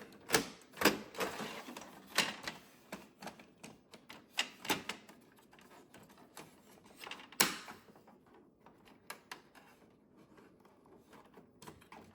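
An Epson ET15000 sublimation printer runs a print cycle, giving a series of sharp mechanical clacks and rattling carriage bursts at irregular intervals over quiet hum, close and fairly faint, with no voices.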